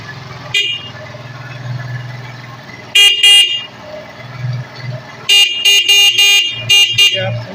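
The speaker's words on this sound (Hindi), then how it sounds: "फ़ौरन अपने हॉर्न को चेक करना है" A motorcycle horn with a capacitor fitted sounds in loud, close bursts. There is one blast, then a short series of rapid toots, over the low idle of the running bike.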